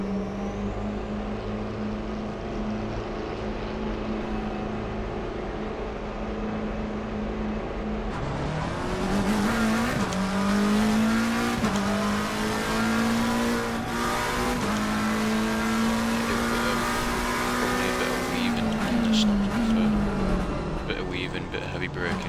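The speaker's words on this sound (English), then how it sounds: "Bit of heavy braking," Race car engine in an Xbox racing game roars loudly and steadily, its pitch rising and falling through heavy braking and gear changes, with tyre noise and a voice talking over it throughout.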